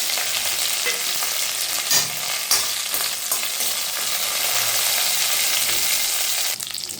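Curry leaves and dried red chillies crackle and sizzle in hot oil in a pan, a steady, bright frying hiss with occasional sharper pops and stirring scrapes, close and continuous.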